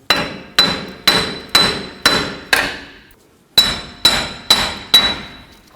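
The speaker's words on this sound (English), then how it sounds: "Now we're just going to use our hammer and hit the back side of the hub itself" Hammer striking the back of a front wheel hub on a 1997-2006 Jeep Wrangler to separate it from the steering knuckle: six sharp metallic blows, a short pause, then four more, each ringing briefly.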